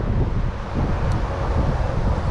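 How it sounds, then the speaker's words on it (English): Wind blows steadily outdoors beside a pond, a loud, continuous rumble of gusts buffeting the microphone with no pauses and nothing else standing out. "as you probably can already hear and see that the wind's already picking up out here"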